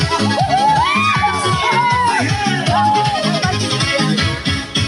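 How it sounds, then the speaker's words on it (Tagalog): A group in a Zumba exercise class shouts and cheers loudly and continuously, with whoops and high voices rising over a pulsing music beat close by. "Sigaw ng saya sa paligid, nakakahawa sa damdamin."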